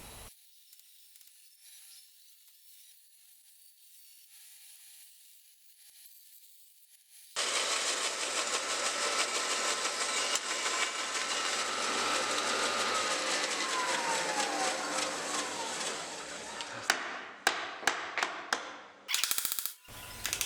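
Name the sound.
band saw cutting wood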